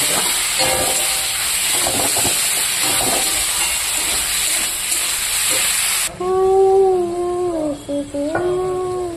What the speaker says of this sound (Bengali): এবার আমি হালকা জল দিয়ে দেবো